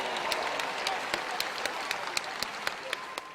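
Scattered, moderately distant clapping from an audience for a comedian, with a few sharper individual claps standing out above a soft crowd bed.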